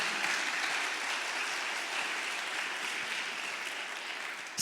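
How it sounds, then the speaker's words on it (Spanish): Applause from a church congregation for two members from the island, a steady dense wash of clapping that holds evenly throughout with no voices. "den un aplauso a esos dos de la isla"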